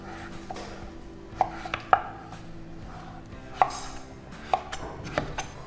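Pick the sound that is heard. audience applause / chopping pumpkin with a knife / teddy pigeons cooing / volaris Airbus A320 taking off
chopping pumpkin with a knife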